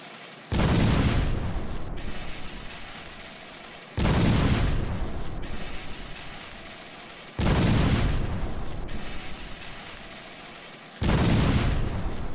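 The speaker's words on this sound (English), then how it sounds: "The fireworks will start in 3," Fireworks burst in four loud booms, each followed by a long crackling, rumbling decay, spaced a few seconds apart with no voices.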